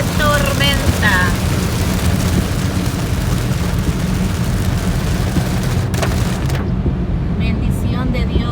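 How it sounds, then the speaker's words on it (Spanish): A heavy rainstorm roars steadily, with rain drumming in a dense, loud wash heard from inside a car in city traffic, while people talk over it. "¡Qué tormenta!"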